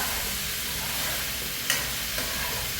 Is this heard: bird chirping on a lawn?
no